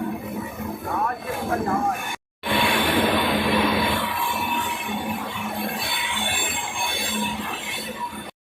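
An Amrit Bharat Express on its inaugural Howrah to Anand Vihar run rounds a curve, its wheels squealing steadily over loud continuous rail rumble, with a brief cut midway and faint voices in the background.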